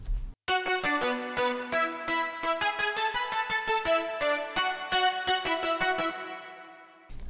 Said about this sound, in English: So what I did is I layered it with a DX7 with the preset Room 1A